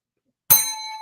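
A single bright notification bell chime strikes after a moment of silence and rings out with a clear, fading metallic tone.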